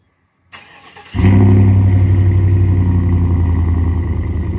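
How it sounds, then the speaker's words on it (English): A 1999 Javelin Renegade 20 boat engine cold-starts, cranking briefly, then catches and settles into a loud, steady idle with a deep rumble, close by. "Little cold start to start the video."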